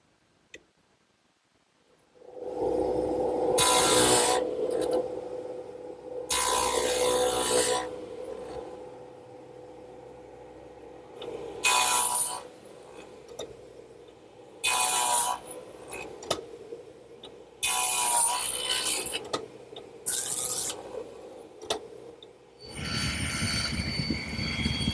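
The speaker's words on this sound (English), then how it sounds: "What I'm starting to do now is cut a dado in the front legs" Table saw fitted with a stacked dado blade cutting a dado into wooden workbench legs: a steady motor whine overlaid by repeated bursts of loud rasping cuts, each lasting a second or two.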